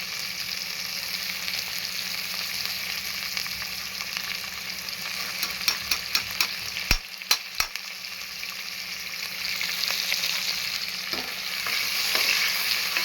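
Onions sautéing in ghee in a pan keep up a continuous close frying hiss, broken midway by a quick series of sharp spoon clicks and scrapes against the pan as they are stirred.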